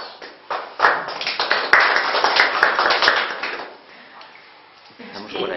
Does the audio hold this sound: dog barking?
no